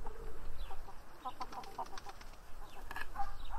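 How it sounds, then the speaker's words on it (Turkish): Chickens peck at fish laid out on the ground, giving soft, scattered clucks and short calls close by amid light background noise. "Tavuklara bak, nasıl yiyor bak."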